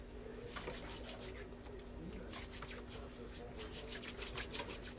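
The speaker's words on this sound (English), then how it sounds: "I'm rubbing my hands together to get this excess dough off my hand" Flour-dusted hands rub briskly together to shed sticky buttermilk biscuit dough, making a close, soft, rhythmic scratchy rustle in quick repeated strokes, fairly quiet, with a voice speaking over it at times.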